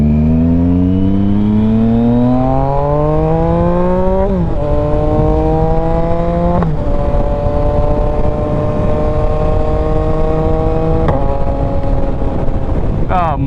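A motorcycle rides along a road, its engine pitch climbing as it accelerates and dropping at several gear shifts, with steady wind rush underneath.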